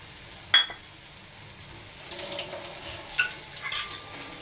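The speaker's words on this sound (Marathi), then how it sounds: "आता आपण याच्यामध्ये भाज्या टाकून घेऊया." Mixed vegetables (broad beans, field beans, peas, carrots, peanuts) dropped into a hot pan for a Bhogichi bhaji, giving a sharp hiss and clatter on entry, then a low steady sizzle with a few stirring scrapes and clinks.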